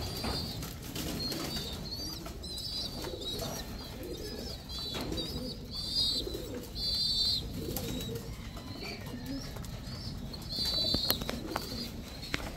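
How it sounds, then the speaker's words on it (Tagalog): A black tiger ice pigeon coos softly amid a busy loft, with repeated low murmuring coos, chirps and occasional wing flutters over a faint background hum. "ice pigeon na black tiger"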